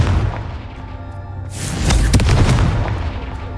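A Confringo fire spell explodes in the Hogwarts Legacy video game, a sudden booming burst about halfway through that rumbles and crackles on through the remaining seconds.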